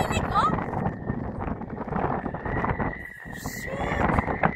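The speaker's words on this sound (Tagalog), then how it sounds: "It's so windy over here." Strong wind buffets the microphone outdoors at a scenic spot in South Korea, a loud continuous rumbling roar with gusts swelling toward the end, while a person talks over it.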